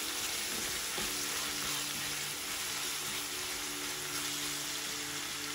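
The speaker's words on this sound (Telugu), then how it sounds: "ఈ అల్లం వెల్లుల్లి పేస్ట్ కూడా కొద్దిగా వేగనివ్వండి." Ginger garlic paste frying with onions in a pan for a prawn curry, a steady close sizzle that runs unbroken throughout, with faint stirring scrapes and no voices.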